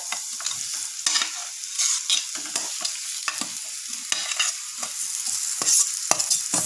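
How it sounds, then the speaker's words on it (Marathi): Cut boiled potatoes being stirred and fried with turmeric in a pan, a steady close sizzle with repeated scraping strokes of a spatula at an uneven rhythm, no voices. "आता आपण यामध्ये कट केलेले बटाटे देखील ॲड करूयात"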